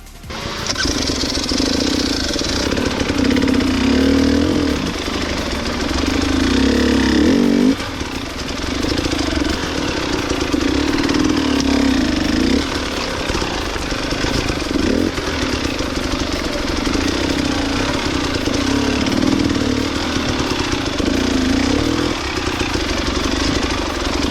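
A KTM EXC 300 two-stroke enduro motorcycle is ridden through the Carpathian mountains near Kosmach during an enduro event, its engine loud and close, revving and rising and falling steadily for the whole stretch.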